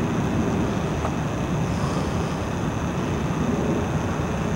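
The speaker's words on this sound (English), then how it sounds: "There's a helicopter right there." A helicopter flies nearby during a night of sky watching, its engine and rotor producing a steady, broad roar. The sound stays even and continuous throughout, with a hiss of wind over the microphone and no voices.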